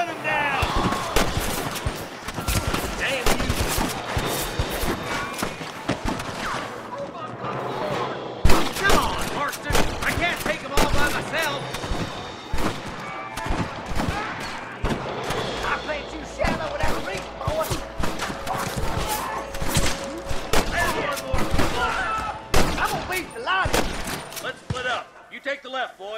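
Gunfight in Red Dead Redemption on PS4: dense, rapid volleys of gunshots crack and overlap almost without pause for the whole stretch, loud and close, with voices mixed in the chaos.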